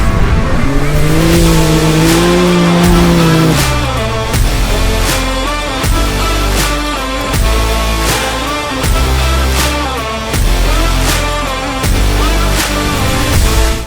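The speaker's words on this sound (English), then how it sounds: "The overnight leader Harley Uran led the field out and was storming to a commanding lead" Race cars roar past on a circuit during a state championship race, loud engines surging and fading in repeated pulses as the field speeds by, with no talk.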